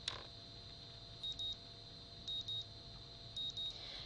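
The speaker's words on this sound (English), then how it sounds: "My morning alarm goes off" A morning alarm clock in the Katawa Shoujo video game goes off as three quiet double beeps, evenly spaced over a soft background hum, with no one speaking.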